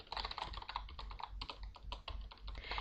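Rapid keystrokes on a computer keyboard as commands are typed into a text-based online game, a quiet, close run of crisp clicks with brief pauses between bursts.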